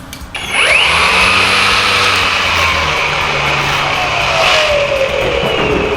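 An EGO 56V Power Load 38 cm cordless line trimmer with a variable-speed trigger spins up with a rising whine, then holds a loud, steady, high-pitched whir close by.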